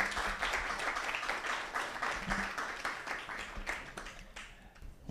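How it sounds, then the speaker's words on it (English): A meetup audience applauds as the first speaker is invited to the stage, steady moderate clapping for about five seconds that gradually thins and softens toward the end, with no talking over it. "So big applause to Aki."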